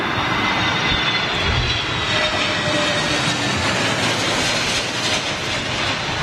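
Airbus A320neo jet at a windy Heathrow, a loud continuous engine roar mixed with broadband wind rumble that holds steady with no clear talking.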